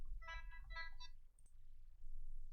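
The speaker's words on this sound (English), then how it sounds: "Phone." Phone ringtone playing faintly, a short tonal melodic ring in two or three bursts at the start, then near silence.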